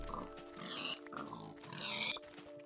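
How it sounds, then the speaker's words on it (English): Pigs in Minecraft beta 1.7.3 giving two drawn-out grunting oinks in a row over a faint background hum, close and clear, with no talking. "Why are there so many pigs?"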